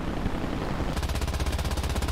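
Rapid machine gun fire in War Thunder, a loud, steady rattling burst of evenly spaced shots that kicks in under a dense background rumble and keeps going to the end.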